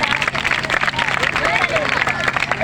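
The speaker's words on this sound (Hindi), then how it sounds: "भाई जोरदार ताली बजा दो आप लोग" Loud, dense audience applause at a public talk, steady clapping with crowd murmur running throughout.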